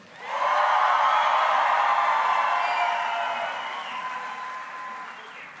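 Parents and family members at a 2023 high school graduation erupt into loud cheering and applause with whoops, a big crowd roar that swells quickly, holds, then slowly fades.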